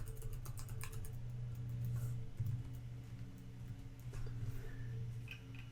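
Quiet rapid keystrokes tap on a computer keyboard as test credit card details are typed into a payment form, with a low hum running underneath.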